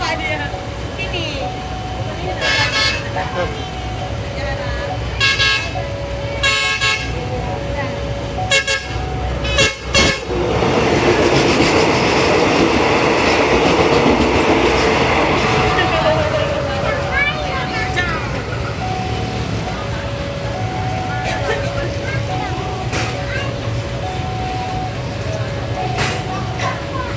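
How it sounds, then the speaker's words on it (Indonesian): A BB203 diesel locomotive hauls the Putri Deli passenger train on the Tanjung Balai–Medan route into a station, sounding repeated loud horn toots over a steady engine rumble and rising rolling noise, with people talking nearby. "Masuk kereta api nih."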